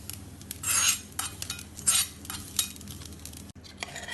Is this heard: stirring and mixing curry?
yes